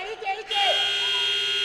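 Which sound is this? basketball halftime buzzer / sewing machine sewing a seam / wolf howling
basketball halftime buzzer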